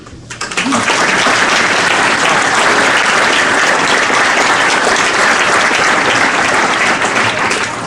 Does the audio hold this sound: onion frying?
no